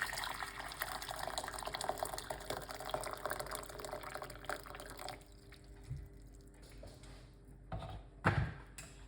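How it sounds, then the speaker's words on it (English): Hot water pours steadily into a cup for about five seconds, then stops, leaving a few light drips and clinks. "So 1 cup of hot water."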